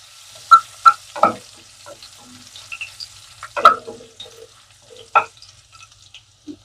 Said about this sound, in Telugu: ఫస్ట్ మిర్చి ఉన్న కరివేపాకు మంచిగా వేగాలి అప్పుడే ఫ్లేవర్ కర్రీకి మంచి ఫ్లేవర్ వస్తుందండి